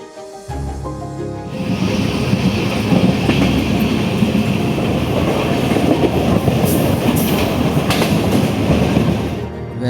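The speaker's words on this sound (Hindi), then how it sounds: "ट्रेन की साउंड सुन के" A passenger train runs along the rails, its steady rumble and rhythmic clickety-clack loud and close for nearly ten seconds, with faint metallic squeals, heard from inside a carriage with no talk.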